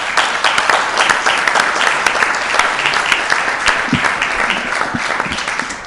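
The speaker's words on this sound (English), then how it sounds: "I want to give you guys a round of applause." Sustained, loud applause fills a meeting room as an audience claps continuously for volunteers at a special oversight board session, a dense, even patter with no pause.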